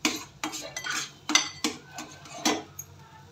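Sweet potato puran filling being stirred in a pan, a utensil scraping and clinking against the metal in separate strokes about every half second, close and fairly quiet, with no talking.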